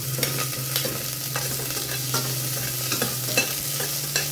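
Ginger and onion frying in a hot pan, a continuous sizzle with scattered crackles and pops and a faint steady hum beneath, close and fairly loud with no voices.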